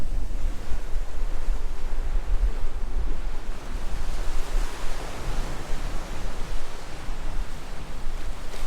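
Sea waves washing in at the water's edge on a windy day, a steady broadband roar of surf with wind buffeting the microphone throughout, no voices.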